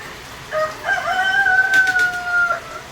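Chickens kept penned under shelter during a storm crow and cluck nearby, a long drawn-out rooster crow rising over soft clucks, with no talking.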